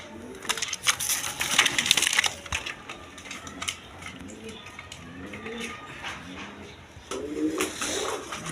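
Rajgolla pigeons coo softly in low repeated phrases, close by, among scattered rustling and scraping sounds.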